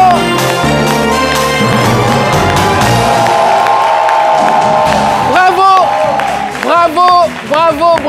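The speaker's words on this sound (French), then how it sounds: "On applaudit très fort pour Lobognan" A crowd cheers and claps on a live television show, loud mixed whoops and applause under music at first, then dropping into excited shouted voices and a presenter speaking near the end.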